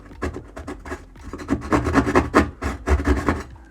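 A knife saws into drywall in a closet wall, giving a series of close, rough scraping and rasping strokes in an uneven rhythm, alone without talk.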